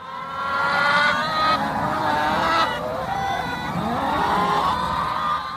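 A dense flock of about 1,000 backyard chickens creates a loud, continuous clamor of overlapping squawks and honking calls, steady throughout with no gaps.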